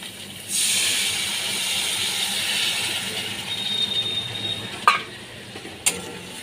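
Spice paste for a bhola fish curry with mustard paste and coriander fries in oil, a close, continuous hiss and sizzle with a couple of sharp clinks near the end.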